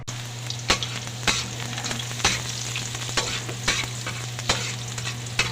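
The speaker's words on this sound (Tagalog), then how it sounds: "So mainit na yung kawali natin. Lagyan na natin yung bawang." Garlic frying in a hot pan (kawali) as fried rice gets started, a loud continuous sizzle with a low hum and regular scraping spatula strokes about every half second, no voices.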